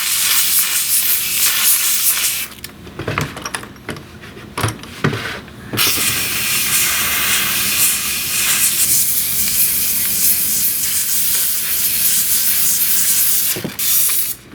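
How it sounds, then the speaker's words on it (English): A steamer sprays steam into the loosened glue joints of a wooden chair, a loud continuous hiss broken by a few short pauses and bursts, then resuming steadily, close up with no voices. "all I'm trying to do is just get some steam down into that crack and heat everything up a little"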